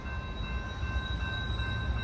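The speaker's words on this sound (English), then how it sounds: "Train coming down the hill." A Norfolk Southern freight train rolls down a hill in the rain, a steady low rumble heard from a distance with a constant hiss and faint tonal whine, with no talking.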